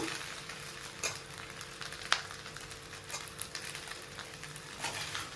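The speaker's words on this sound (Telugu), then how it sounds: "కొంచెం ఇట్లా మనకి రైస్ అంతా పట్టేటట్టు ఫ్రై చేసుకోవాలి" Cooked rice is stir-fried for street-style chicken fried rice in a small, overfilled pan on high heat, giving a soft, steady sizzle with occasional scraping clicks as it is tossed.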